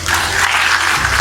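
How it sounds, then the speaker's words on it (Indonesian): Short burst of audience applause at an Indonesian agriculture ministry event, steady dense clapping for about a second, loud and close. "tepuk tangan ya"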